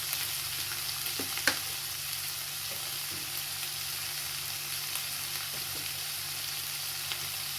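Chinese kale and canned fish stir-fry in a pan with a steady, even sizzle throughout and a few faint scrapes of stirring.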